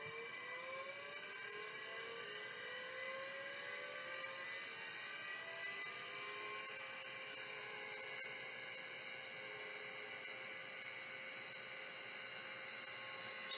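A stuck stepper motor in a 3425-series unit whirs and grinds continuously, with thin whining tones sliding upward over a steady mechanical hum, close and without speech.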